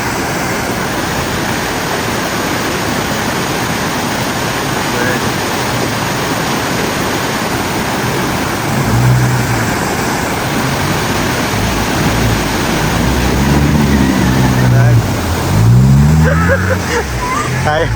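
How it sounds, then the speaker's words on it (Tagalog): Strong river current rushing steadily and loudly at a riverside campsite, a constant broadband roar throughout, with voices briefly heard over it near the end. "Malakas ang agos."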